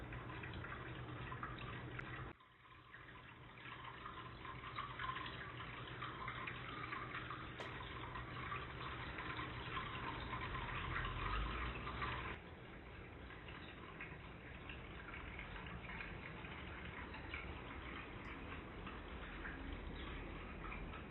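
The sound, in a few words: shallow creek water flowing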